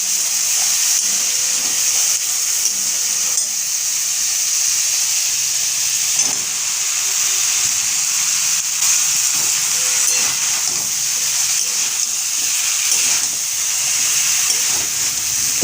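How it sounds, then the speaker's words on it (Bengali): Spice paste frying hard in a pan for a home-cooked Bengali curry, a steady close sizzle and hiss that runs unbroken throughout, with a few faint clinks of a spatula. "তো এই যে মশলাটাও ভালো করে কষিয়ে নিচ্ছি।"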